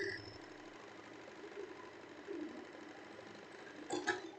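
Sewing machine stitching a straight seam on a blouse, a fast steady mechanical whir heard close and fairly quiet, with a brief sharper clatter near the end.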